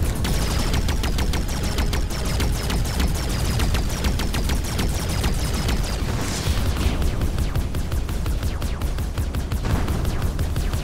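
Dense, continuous rapid gunfire from destroying turrets in the video game Arc Savior, with a fast rattling rhythm that runs loud and unbroken throughout, over a low rumbling background.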